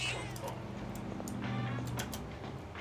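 A cat in the video game Persona 3 Reload gives a short meow at the start over steady game background music, with a few soft clicks and a faint low hum.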